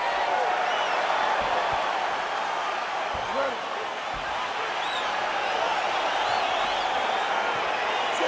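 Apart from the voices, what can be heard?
crowd cheering as a UFC fight begins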